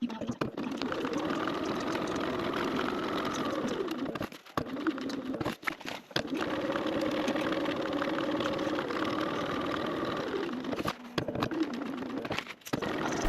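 A sewing machine stitching a fabric rectangle for a bag hums steadily up close, running in long continuous bursts broken by several brief stops and restarts.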